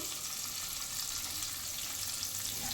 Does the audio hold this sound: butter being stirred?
yes